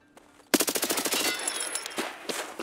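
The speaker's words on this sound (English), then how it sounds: "Who's he shooting at?" Automatic gunfire in the video game Escape from Tarkov: a sudden loud burst of rapid, evenly spaced shots lasting about a second, followed by a few scattered single shots, with no talking.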